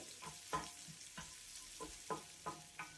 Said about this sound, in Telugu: తర్వాత పచ్చిమిరపకాయలు ఇంకా కరివేపాకు కూడా వేసుకుని వేయించుకోవాలండి